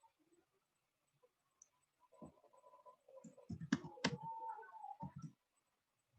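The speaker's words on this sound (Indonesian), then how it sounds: "Kita ketik lagi." Typing on a computer keyboard produces a quiet cluster of irregular clicks and taps lasting a few seconds, with a few isolated clicks before it.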